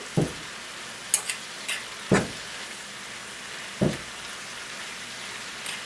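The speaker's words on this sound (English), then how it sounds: "fry it just a little bit or singe it a little bit." Cabbage fries in a pan with a little oil, giving a soft steady sizzle broken by a few sharp crackles and pops spaced a second or two apart.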